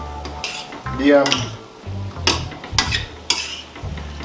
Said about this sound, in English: I'm just going to give this a nice mix everything together